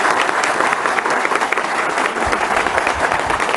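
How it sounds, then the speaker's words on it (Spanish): Applause from a large outdoor audience at the inauguration of Chapultepec's fourth section, steady dense clapping throughout, loud and continuous with no break. "Un aplauso para Claudia por esa decisión"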